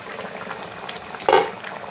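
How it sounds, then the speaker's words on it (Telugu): Mutton bone broth with chintakaya bubbles at a steady boil in a pot, a soft continuous simmer with one louder burst of bubbling midway, heard alone at close range. "చారు మంచిగా మసిలిపోయింది"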